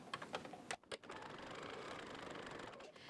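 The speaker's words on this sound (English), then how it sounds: "I'm just sewing with a 1/4 inch seam" Sewing machine stitching a quilt strip with a 1/4 inch seam: a few quick starting taps, then a steady fast mechanical whir running close and fairly quiet, with no talk.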